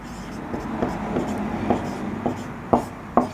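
Chalk or marker writing on a classroom board during a Class 6 science lesson, a series of short scratchy strokes and taps that grow sharper toward the end, with a room hum and faint voice underneath.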